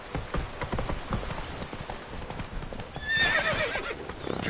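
Roach, the horse in The Witcher 3: Blood and Wine, gallops in a fast, continuous drum of hoofbeats, with a loud whinny partway through.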